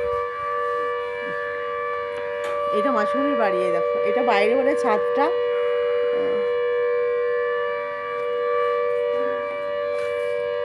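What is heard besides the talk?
siren wailing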